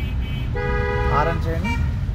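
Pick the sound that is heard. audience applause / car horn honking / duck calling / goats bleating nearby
car horn honking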